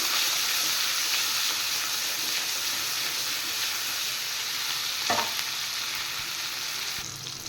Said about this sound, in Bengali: এবার আমি এখানে দিয়ে দেব সামান্য একটু আদা আর রসুন পেস্ট এটা হালকা ফ্রাই করবো